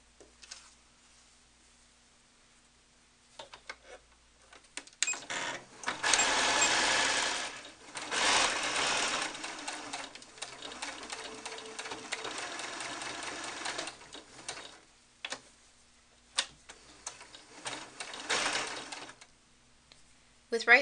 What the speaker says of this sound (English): we're going to sew around the outside edge of the hair and then continue along the inside hairline